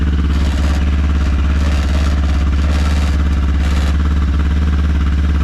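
A motorcycle engine idles loud and steady with a rough, pulsing rumble, while a loose number plate adds a continuous buzzing rattle over it, close up throughout.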